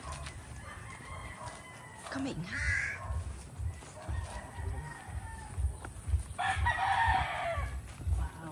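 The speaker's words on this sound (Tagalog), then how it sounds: "Wow, dumami manok." Roosters crow repeatedly amid clucking chickens on a farm in Maragondon, Cavite, some calls loud and close, others farther off, while a person briefly speaks over the yard noise.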